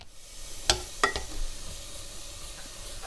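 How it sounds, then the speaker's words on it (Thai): Sliced ginger dry-roasts in a hot pot, giving a soft, steady sizzle and hiss broken by a few sharp knocks and scrapes as the pieces are pressed and stirred against the metal. "เอามาดาดกับหม้ออย่างนี้ค่ะก่อนใส่น้ำต้ม"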